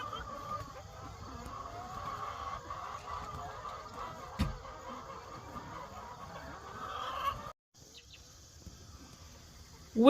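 Pasture-raised laying hens spread across a morning pasture, soft murmuring clucks under a low outdoor background, with one sharp knock partway through and a brief dropout near the end.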